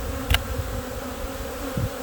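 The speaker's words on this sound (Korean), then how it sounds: "어우 벌이 많이 난리가 났는데요." Agitated honeybees buzz around an opened beehive during a spring hive transfer, a steady close drone with a couple of louder passes as individual bees fly near, no talk.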